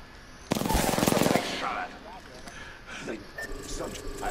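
Rapid automatic gunfire from enemies in the battle royale game Apex Legends, a loud dense burst of shots lasting about a second, then fading into quieter scattered game sounds and a voice talking.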